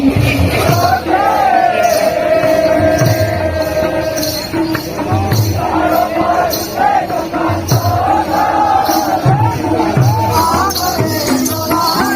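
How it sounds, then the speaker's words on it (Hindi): Large festival crowd at the Kharripahad Jhula Rath Yatra, a loud continuous din of many voices and shouts with people talking nearby, dense and close throughout. "मैं सोचे नहीं रहे कि यहाँ इतना भीड़ रही बोल के"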